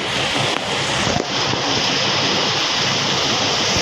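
Heavy typhoon rain pours in a dense, continuous hiss, loud and unbroken, with a couple of brief knocks early on and no talking.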